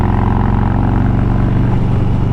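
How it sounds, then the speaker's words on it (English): A motorcycle exhaust droning loud and close while riding through mountain rock walls, a continuous throbbing engine note with a slight rise in revs and no talking. "that exhaust, the sound just bouncing off of the sides of the mountain rocks"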